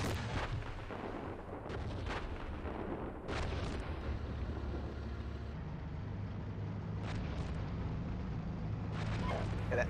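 War video game combat: rumbling artillery, explosions and scattered gunfire form a continuous dense battle din with sharp distant blasts rising above it.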